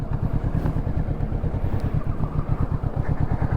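Kawasaki Ninja 650 motorcycle, 2025 model, with a steady, fairly quiet engine drone and a rapid rhythmic pulsing throb that holds throughout.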